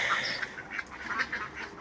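A few ducks give repeated quacks in short bursts over a low background hum, nearby and moderately loud, with no voices.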